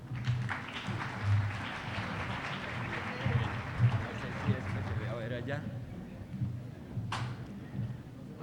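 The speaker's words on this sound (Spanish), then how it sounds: "recibámoslo con un fuerte aplauso" Applause from the audience at an international congress on constitutional law: a hall of people clapping in a steady wash that thins out over several seconds, with voices talking beneath and after it.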